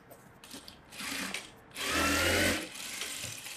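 A sewing machine stitches fabric for a puff sleeve in short bursts, a close mechanical whir rising and falling with pauses between runs.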